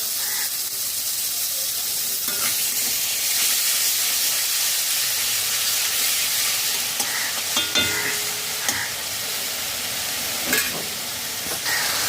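Garlic paste, ginger paste and tomato puree frying over high flame while being stirred, a continuous loud close sizzle and hiss with scraping spoon strokes throughout, no voices.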